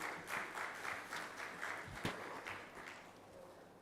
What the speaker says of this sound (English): I'll request him now for his address amidst a round of applause from all of you.